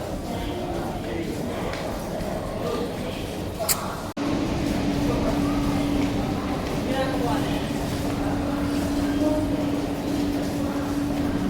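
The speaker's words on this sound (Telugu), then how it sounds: "ఇక ఫైనల్లీ మనం వెళ్ళాల్సిన ట్రైన్ వచ్చేసింది" Passenger train arriving at a station platform, a steady rumbling roar with a sustained metallic tone under speech, after a brief sharp knock and jolt in the recording.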